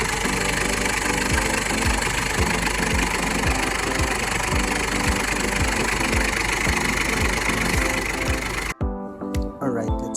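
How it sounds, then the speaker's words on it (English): The 2.5L engine of a 2013 Ford Everest idles loud and close with a regular ticking pulse, then cuts off abruptly near the end, leaving quieter background sounds. "That's the engine sound."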